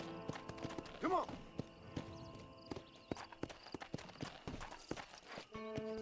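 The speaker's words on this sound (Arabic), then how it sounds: "ماشي الحصان كده خلي فيها هيبة كده احسن من الجري العبيط بتاعه" A horse walks in Red Dead Redemption, its hooves clip-clopping in an unhurried, uneven rhythm at low volume, with a brief snort or whinny early on and faint game ambience beneath.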